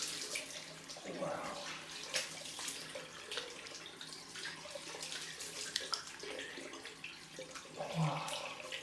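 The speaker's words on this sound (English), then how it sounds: "Cold rinse time." A bathroom tap runs steadily for a cold rinse during a head shave, a soft, continuous rushing of water with faint splashes, fairly quiet and close, with no talking.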